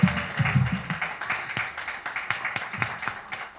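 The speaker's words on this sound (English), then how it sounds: "please give applause to His Grace Anuttama Prabhu" An audience at an ISKCON anniversary celebration applauds for a senior devotee, a steady patter of many hands clapping, fairly close, with low murmurs early on.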